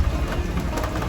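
Steady rain falls at night at Lewis Mountain Campground in Shenandoah National Park, a dense, even hiss of drops on surfaces, close and continuous, with no voices.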